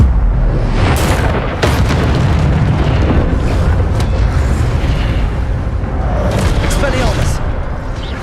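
A roaring, booming burst of the Incendio fire spell cast in Hogwarts Legacy, loud and close with a rumbling low end and crackling hits layered on top, running continuously throughout.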